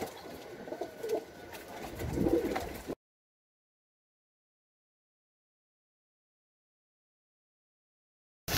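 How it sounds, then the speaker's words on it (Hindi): A sick female pigeon eating grain, cooing softly up close for about three seconds, followed by a long stretch of silence. "ये देखिए कबूतरी दाना खा रही है"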